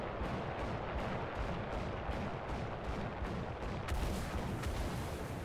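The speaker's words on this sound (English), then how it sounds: "And here comes an artillery strike." Artillery strike in War Thunder during a Sherman tank battle: a steady, dense rumble of distant shelling with regular muffled booms about every half second, swelling into a heavier burst near the end.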